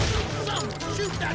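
Rapid gunfire crackles throughout a firefight in the Call of Juarez: Gunslinger video game, a dense volley of shots mixed with shouting voices.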